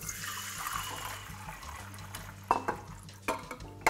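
Warm melted butter mixture pours steadily into a bowl in a kitchen, a close liquid splash with a few sharper clinks near the end.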